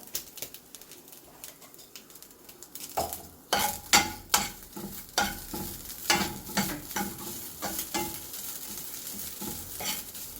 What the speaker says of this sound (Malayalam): തേങ്ങ ഒന്ന് മുരിയട്ടെ. മുരിഞ്ഞ് വന്നിട്ടുണ്ട്.